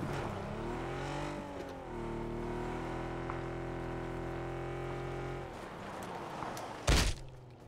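A car in the video game PUBG speeds along with a loud, steady engine drone whose pitch rises and shifts as it accelerates, ending in a sharp bang near the end.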